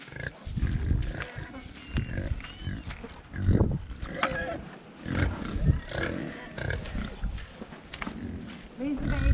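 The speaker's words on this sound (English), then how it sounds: "Come dogs, let's feed the pigs." Pigs grunting and squealing nearby on an off-grid farm in central Portugal, rough snorts and oinks overlapping in a continuous jumble, with some talking mixed in.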